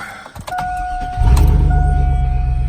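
A pickup truck's engine starts: a chime and a short whirring crank, then the motor catches after about a second and settles into a loud, close, steady idle.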